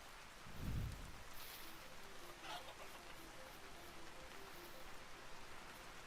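Rain falling on leaves in a video game, a soft steady patter of droplets heard quietly at a distance, joined by a brief low thud and faint tonal game sounds.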